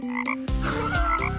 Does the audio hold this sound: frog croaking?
yes